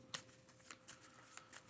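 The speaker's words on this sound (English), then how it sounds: "Shuffle this up." Quiet riffle shuffle of a Marvel Champions card deck during a Hawkeye versus Red Skull game: a few soft, crisp flutters and snaps spread across under two seconds, close and faint.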